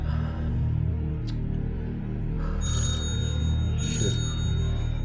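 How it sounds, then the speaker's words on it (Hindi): A phone rings with an incoming call, repeated electronic ringtone bursts sounding over a low background hum with no talking. "कॉल आ रही, प्लीज अटेंड करें।"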